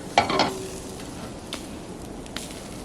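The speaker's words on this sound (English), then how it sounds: "We're just going to baste them a little bit while they're cooking." Chicken wings sizzling on the heat while root beer sauce is brushed on, a steady hissing crackle with a couple of brief brush scrapes and small pops, no one talking.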